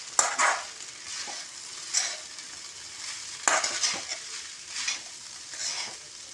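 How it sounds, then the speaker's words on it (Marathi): Poha is stirred and fried in a pan, a spatula scraping the metal every second or so over a soft, steady sizzle, close by with no voices. "बघा परतवणं चालू आहे, कसं परतवणं चालू आहे"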